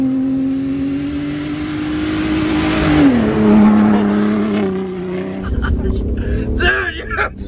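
A dually pickup truck's engine revs hard and climbs in pitch while being driven aggressively, with a loud steady drone that sharpens and shifts midway, joined by rougher road noise and excited talk near the end.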